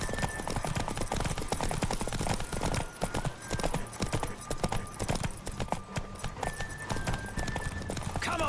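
Horse hooves pound in a fast, continuous gallop rhythm in The Witcher 3 video game, close and loud, over a busy background with a faint tonal line.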